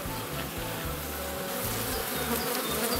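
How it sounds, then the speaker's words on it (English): A dense swarm of honey bees at a hive in Sweden, a continuous close, steady buzzing drone that fills the air without pause. "oh my gosh, there's a lot of bees"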